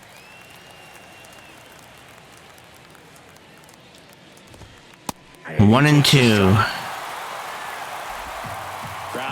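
Stadium crowd noise in the MLB The Show 23 baseball game, late in a one-run ninth inning: a steady low crowd murmur that swells into a louder roar for a couple of seconds, with an announcer talking over it.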